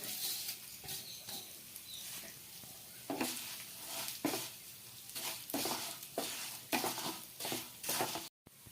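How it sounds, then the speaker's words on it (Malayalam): Steady sizzle of vermicelli frying in ghee in a pan, broken by repeated scraping strokes of a spoon stirring it, close and fairly loud. "ഇനി നമുക്കിതൊന്ന് നെയ്യിലിട്ടൊന്ന് വറുത്തെടുക്കാം"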